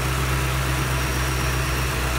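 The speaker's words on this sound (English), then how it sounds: "You can hear the engine idle speed going back down again" A car engine idles steadily under an electronic idle speed controller, a constant low droning hum with a faint high whine, the idle holding fairly even as it settles back down, with no talking.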